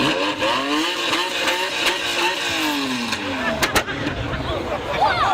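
A powerful Lamborghini Diablo engine revs repeatedly nearby at a supercar parade, pitch rising and falling in sweeping bursts, with a voice talking over it.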